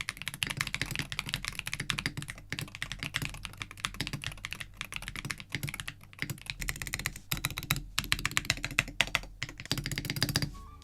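Steady, fast typing on a modded Wooting 60HE keyboard with a light case gives a deep, dense clatter of keystrokes, close and continuous with brief pauses between runs.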